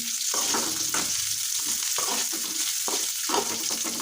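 Sliced onions fry in a pan for a quick breakfast, giving a loud, continuous sizzle broken by regular scraping stirs roughly every half second, close up with no talk.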